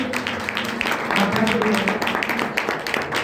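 A church congregation at a Hindi-language sermon claps together in a dense, continuous patter of many hands, fairly close, with voices mingled in.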